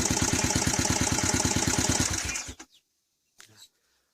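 Yamaha Vixion motorcycle engine running after a kick start, a rapid rhythmic chugging idle close by that winds down and cuts out, followed by silence and a brief clunk.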